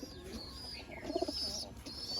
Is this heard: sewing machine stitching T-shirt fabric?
no